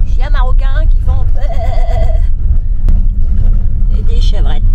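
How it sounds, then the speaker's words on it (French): Goats, kids and sheep bleating in short wavering cries, several calls in a row over a rumbling 4x4 engine and road noise on a dirt track near Tiznit, Morocco. "Des bébés, des chevrettes et des moutons."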